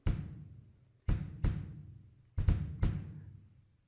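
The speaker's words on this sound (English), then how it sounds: "he has a pedal. When he steps on the pedal," Five deep, booming bass drum hits struck by a pedal-driven mallet, each with a soft thud attack and a decaying low resonance, spaced irregularly with a couple close together.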